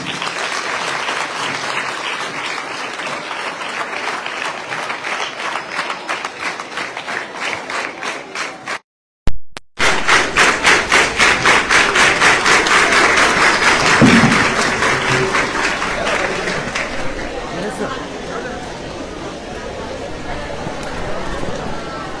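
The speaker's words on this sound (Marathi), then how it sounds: "एकदा सर्वांसाठी जोरदार टाळ्या" Loud, sustained applause from a school audience at a free career guidance camp in Thane, continuous dense clapping that briefly cuts out midway before resuming strongly and slowly tapering off.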